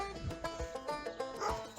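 Dogs at a large compound give repeated rhythmic barks and yips, several voices overlapping in a busy chorus heard at moderate distance.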